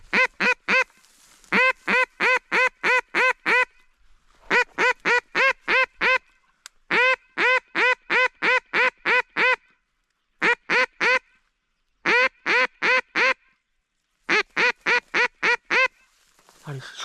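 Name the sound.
ducks quacking during a duck hunt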